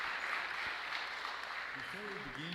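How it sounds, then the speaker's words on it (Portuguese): Applause for a panel of distinguished speakers at a sugar-trade conference, a soft, fairly distant patter of clapping that fades as a voice begins speaking near the end. "Uma salva de palmas para os distintos panelistas"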